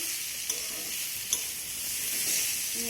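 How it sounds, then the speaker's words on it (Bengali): Pointed gourd, potato and fried shrimp in spices are stirred in a pan, a continuous close sizzle with a couple of light utensil taps. "তো এখন আমি সব কিছু আবারও ভালো করে নেড়ে চেড়ে নেব।"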